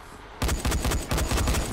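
Rapid automatic gunfire from Dying Light, loud and close, starting abruptly after a brief quiet moment and continuing as a dense burst of shots.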